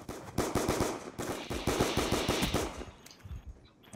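Rapid bursts of automatic gunfire from a Black Ops II video game gunfight, several loud stuttering volleys in quick succession, then a short pause and a fainter shot near the end.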